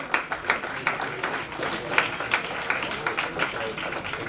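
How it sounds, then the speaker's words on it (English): Applause from an audience at a founder's day ceremony, greeting an award recipient with a student section at the back: a steady mid-level wash of clapping lasting throughout, with individual claps standing out rhythmically. "A huge round of applause for our awardee"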